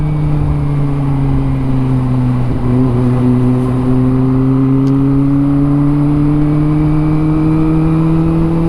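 Kawasaki ZX25R motorcycle riding through city traffic, its engine a loud, steady high-pitched drone with slight pitch swells as the throttle varies, continuous and close throughout, with no voices.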